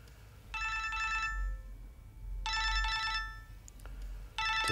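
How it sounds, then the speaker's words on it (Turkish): A phone rings in electronic bursts: two long trilling rings with a pause between them, then a third just starting, loud and close, with no one speaking. "Telefonun çalıyor."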